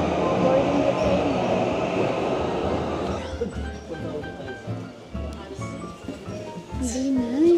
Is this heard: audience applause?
no